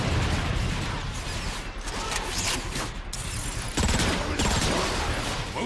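Dense gunfire in the video game Transformers: Fall of Cybertron, a loud continuous fusillade of rapid shots and mechanical clatter with no gaps.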